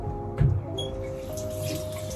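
Hot water runs steadily from a tap into a sink, a constant close splashing hiss with a brief louder gush near the start, with no talking.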